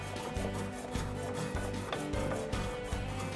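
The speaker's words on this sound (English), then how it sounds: "For this we are using a special planer for end grain." A special end-grain hand planer is pushed in repeated rasping strokes across a wooden chair during hand finishing, close, rhythmic and alone.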